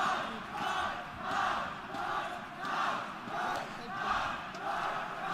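A large arena crowd at the ESL One Cologne 2017 CS:GO grand final, Cloud9 vs SK on Cobblestone, chants in rhythmic swells about once a second, loud and sustained, with no clear talk over it.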